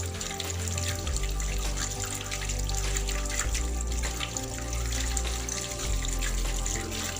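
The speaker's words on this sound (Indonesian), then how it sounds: "Kita lakukan secara seperti tadi untuk membasuh dengan air supaya bersih 2 kali lipat." Running tap water splashes steadily over hands being rinsed of soap at a sink, a continuous close trickle and spatter with no talk.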